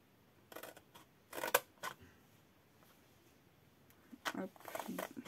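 Scissors snipping paper for a scrapbooking gift basket: a few short, crisp cuts in two clusters separated by a quiet gap, close and fairly soft.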